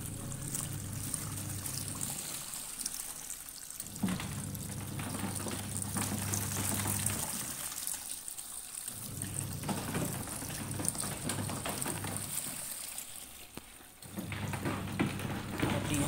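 Water streams into a tub for washing baby clothes, a steady close trickling flow interrupted by three short pauses, running without talk.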